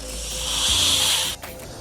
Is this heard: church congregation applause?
no